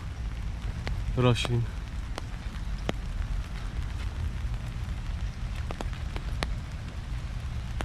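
Steady rain hisses on surrounding foliage in Rio de Janeiro's botanical garden, with a brief spoken word and a short bird call near the start breaking through the soft downpour.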